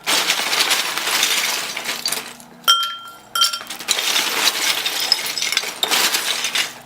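Ice cubes for a mojito clink and rattle into a glass in close bursts, with a brief pause where a couple of sharp glassy knocks ring out.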